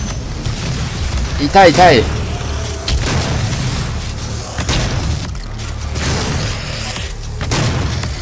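Grenade blasts in the video game DOOM, a few booming thuds spread across the stretch under steady game noise, with someone talking and reacting over the top.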